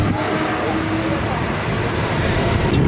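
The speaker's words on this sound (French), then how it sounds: "Donc là il commence à partir petit à petit, la Cayman en bleu Miami." A Miami blue Porsche Cayman pulls slowly away, a steady engine and road noise under a voice speaking over it.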